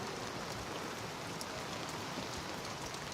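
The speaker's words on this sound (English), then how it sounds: "This is raining. Look at it!" Rain pours onto an open convertible lorry, a dense, continuous hiss of drops pattering on the surfaces, close and steady with no break.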